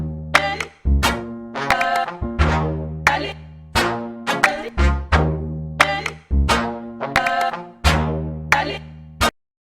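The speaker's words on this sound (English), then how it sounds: "I added a piano from Piano Tech, and I decided to play it in a lower octave to create that bass I was talking about" A Piano Tech piano plays low-octave bass notes in a rhythmic, sampled pattern, each struck chord ringing and decaying before the next, clear and close with no voices, ending abruptly.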